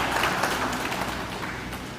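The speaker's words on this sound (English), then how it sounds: "Give yourself a round of applause for that." At an award ceremony, an audience gives steady, moderately distant applause, a dense patter of many hands clapping with no voices over it.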